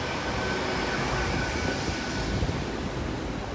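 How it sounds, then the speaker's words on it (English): IET train on a London Paddington service arriving at Exeter St Davids station, a steady broad rumble and hiss of the train rolling in, continuous and fairly distant. "the London Paddington service is coming in"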